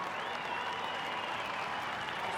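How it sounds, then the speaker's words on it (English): Sustained crowd applause and cheering at a rugby league match between Canberra Raiders and Canterbury-Bankstown Bulldogs, a dense, steady wash of clapping filling the stadium throughout. "And rightfully getting a round of applause."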